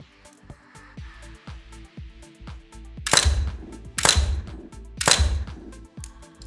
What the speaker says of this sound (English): shoot a 3-round group